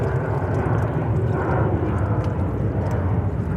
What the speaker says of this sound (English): Qatar 777-300 taking off to Doha